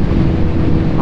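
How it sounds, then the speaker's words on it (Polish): Strong wind during a motorcycle ride buffets the microphone in a loud, continuous low rumble. "Ale fajnie wieje."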